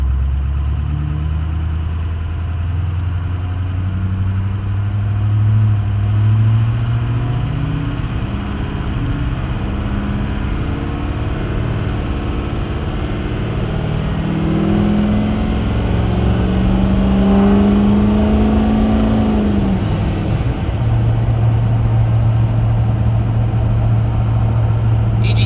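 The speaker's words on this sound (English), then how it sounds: "Definitely can hear the turbo quite a bit." A 6.0 Powerstroke diesel truck engine fitted with a Smeding drop-in non-VGT turbo revs steadily under light throttle, its pitch climbing and falling over a constant low diesel drone, with a rising turbo whistle that swells then drops away near the end.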